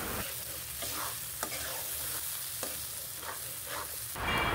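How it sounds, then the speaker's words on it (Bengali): A yogurt mixture hits hot oil with fried onion and whole spices for a nut biryani, sizzling steadily throughout with occasional stirring scrapes, close and fairly loud, ending in a louder burst of hiss. "তেলের মধ্যে পেঁয়াজ, গরম মশলা ভেজে দইয়ের মিশ্রণটা ঢেলে দিলাম"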